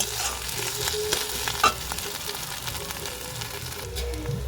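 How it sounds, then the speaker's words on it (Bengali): Ground spices with chopped green chilli and ginger fry in a pan, a steady close sizzle with light stirring and a few soft scraping clicks throughout. "মশলাটা খুব সুন্দর করে ভাজা ভাজা হয়ে গেছে"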